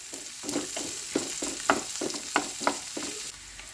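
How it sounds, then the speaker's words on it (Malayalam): Sliced onions sauté with okra in a pan, soft sizzling broken by a rhythmic series of scraping stir strokes, close and moderately quiet, with no voices. "ഇതിലേക്ക് സവാള ഇട്ട് കൊടുക്കാം സവാള കൂടി ചേർത്ത് നന്നായിട്ട് ഒന്ന് വഴറ്റിയെടുക്കണം"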